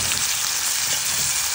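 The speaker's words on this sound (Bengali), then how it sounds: "এখন পাতিলে তেল দিয়ে দিয়েছি। এরপরে পরিমাণ মতো পেঁয়াজ কুচি, রসুন কুচি।" Onion and garlic frying in oil in a pot, a loud, steady, close sizzle with no talk over it.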